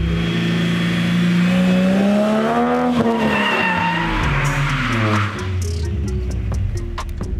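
Car drifting into oversteer with the rear kicking out and no countersteer, spinning out in a donut; loud, close tire squeal and skidding over a revving engine, one continuous sweep of sound.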